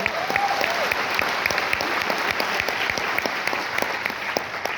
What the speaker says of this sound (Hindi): एक बार जोरदार ताली चाहूंगा